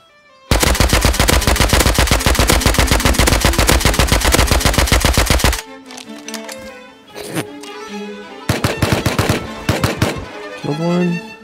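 Rapid automatic gunfire from a silenced weapon in a video game, a long dense burst of sharp clicks followed by scattered shorter bursts and louder cracks, loud and close.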